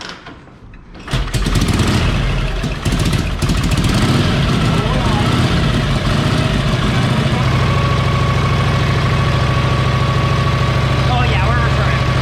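A Harley-Davidson Duo-Glide Panhead motorcycle engine, leaking fuel, fires up on its first start and settles into a loud, steady, close running rumble that holds to the end, with people talking over it.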